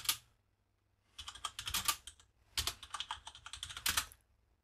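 Someone types git commands on a computer keyboard, two close bursts of quick, crisp keystrokes separated by a short pause, alone with no voices.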